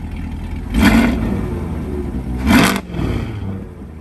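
C8 Corvette with sport catalytic converters in tour mode, revved to about 3500 RPM twice, two short loud rising blips over a steady deep idle rumble.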